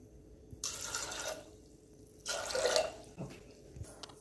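Water is poured in two short bursts into a cup of soaked black chickpeas in a home kitchen, a faint splashing stream with a pause between pours and a few soft knocks after, no talking.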